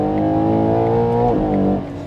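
A 2025 Ferrari Purosangue with a naturally aspirated V12 pulls hard at full throttle, its engine note climbing loudly and steadily, briefly dipping at a gear change, then rising again before easing off at the end.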